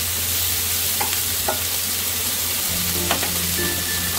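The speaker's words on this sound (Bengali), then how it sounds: "এবার আমি টমেটো দিয়ে দিলাম" Tomatoes and onions fry loudly in a pan for a butter chicken masala, a steady dense sizzle with a few brief scrapes and clinks of stirring, no voices.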